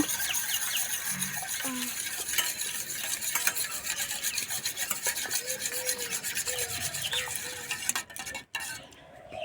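Eggs beaten with a spoonful of mustard oil, a continuous fast scraping and tapping of utensil against bowl up close, pausing briefly near the end.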